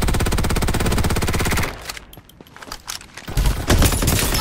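Automatic gunfire rattles rapidly and loudly in the Farlight 84 game for about a second and a half, drops to scattered distant shots, then a second burst of firing starts near the end.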